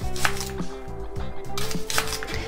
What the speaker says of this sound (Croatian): prvo ćemo malo da nasjeckamo luk. Ja ću ga nasjeći ovako na kolutiće